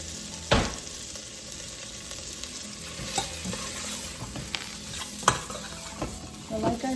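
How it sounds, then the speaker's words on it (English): A spoon stirs cheesy smoked sausage sizzling in olive oil in a pan, with a steady frying hiss and sharp scraping clinks against the pan at intervals. "Let me get a spoon so we can go ahead and stir that."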